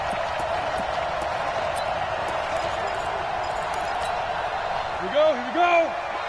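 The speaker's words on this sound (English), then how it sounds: "The enthusiasm of this Cincinnati crowd in full effect." A large stadium crowd at an American football game in Cincinnati's Paul Brown Stadium roars in a dense, continuous wash of cheering, with a few short whoops rising near the end.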